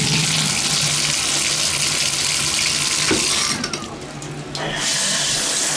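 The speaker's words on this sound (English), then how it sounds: "we've got terrific water pressure again all the way to hot" A bathroom tap runs hard with strong water pressure, a loud, steady rushing hiss close by that briefly thins and dips before surging back to full flow.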